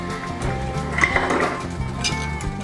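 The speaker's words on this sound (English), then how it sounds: "I'll just take this fork I was cooking the chicken with. And it's just gonna help, you know, like loosen all those bits up" A fork scrapes and clinks against a pan, loosening browned chicken bits, with repeated short metallic scrapes and taps up close, fairly loud, and no speech.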